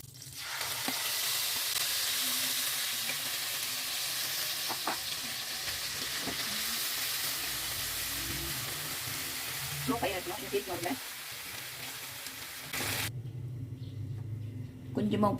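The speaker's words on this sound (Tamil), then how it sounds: "முந்திரி பழத்தை பொரிச்சு எடுத்துக்குவோம்" Cashews frying in a pan for Indian-style rice halwa, a steady loud sizzle and hiss with occasional stirring clatter, a voice speaking over it before the frying cuts off near the end.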